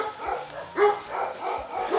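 Village dogs in the countryside near Kołodno bark in short, repeated bursts at moderate distance, several yips and bow-wows spread over about two seconds with no talking.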